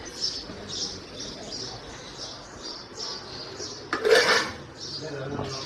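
Dishes and utensils clattering while breakfast is served at home in the morning, with soft intermittent clinks and scrapes and one louder metallic clatter near the end.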